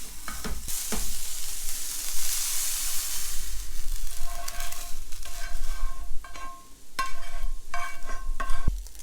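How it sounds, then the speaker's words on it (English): Minced pork and beef browning in a hot pan for ragu bolognese: a loud steady sizzle with intermittent scraping and clanking of a utensil stirring the meat, close by and without talk. "I've just got my first portion of mince off browning in the pan beside it, ready to put in."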